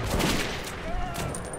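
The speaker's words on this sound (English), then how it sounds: "he's shooting with a shotgun" Shotgun blasts in a first-person shooter set in a metro, rapid bursts of gunfire crackling densely across the short span, loud and continuous with a brief ringing tone near the end.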